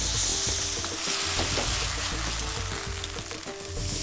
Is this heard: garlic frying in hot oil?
yes